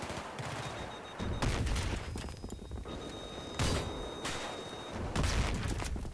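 Gunfire in the video game Battlefield 3 comes as repeated loud bursts of shots, clustered in several volleys with short gaps between them, against a steady background of game noise.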